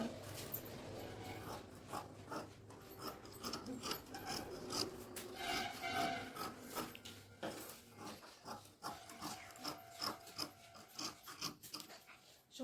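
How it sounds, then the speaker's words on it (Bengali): Scissors snipping through princess-cut blouse fabric, a steady run of close, crisp cutting and rasping strokes with no one speaking. "তো একে আমি কেটে নেই এক্ষুনি।"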